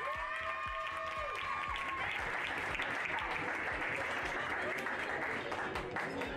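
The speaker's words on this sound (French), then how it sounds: "Applaudissements." Steady applause from a crowd fills the air at a pony show-jumping prize ceremony, continuous and moderately distant, with a few musical tones fading out at the start.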